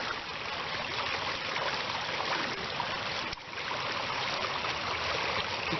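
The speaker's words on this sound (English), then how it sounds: "Just watch it, the water take it away." Stream water flowing steadily outdoors as crumbled leaves are dropped in and carried off, a continuous close rushing trickle with no talk.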